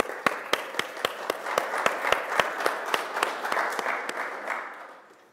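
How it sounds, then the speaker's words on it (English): Modest conference audience applause at SouthEast LinuxFest 2011, with a handful of distinct, sharp individual claps standing out over a softer wash of clapping that fades out toward the end. "Let's give them a round of applause, please."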